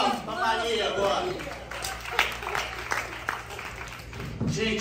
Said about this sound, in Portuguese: mais aplausos para Maria agora